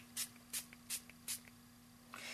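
Four short, crisp hissing spritzes from a spray bottle, evenly spaced, followed by a fifth longer spray, quiet and close.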